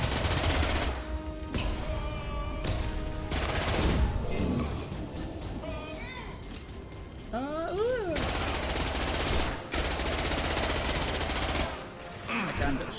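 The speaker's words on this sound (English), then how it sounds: "That gun fires so many rounds," A rapid-fire gun in Mass Effect 2 rattles off long bursts of shots, loud and close, broken by brief pauses, with a voice talking over parts of the shooting.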